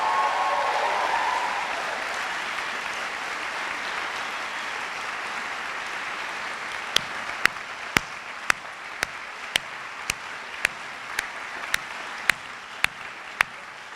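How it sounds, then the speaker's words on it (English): Sustained applause from a ceremony audience at a dental school white coat event, a broad steady wash of clapping throughout, with a run of sharp, regularly spaced clicks in the latter half. "How about one last huge rounding applause?"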